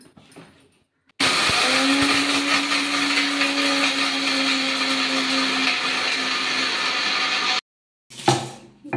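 A kitchen mixer grinder starts abruptly and roars loudly and steadily for about six seconds while grinding masala with coconut pieces and cloves, then stops dead and gives a short second burst.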